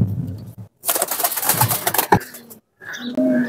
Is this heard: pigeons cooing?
yes